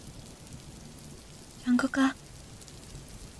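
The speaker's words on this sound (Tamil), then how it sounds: "அப்போது பயங்கரமாக மழை பெய்யுது" Heavy rain falling as a steady wash of hiss throughout, with a short burst of speech in the middle briefly rising over the downpour.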